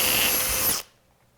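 A power drill whines loudly and steadily while boring holes into an intake base, then cuts off abruptly into near silence.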